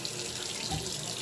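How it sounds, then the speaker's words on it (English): Tap water runs steadily into a sink while someone washes their face sitting down, a close, continuous splashing hiss with no talking. "I usually don't wash my face like this sitting down."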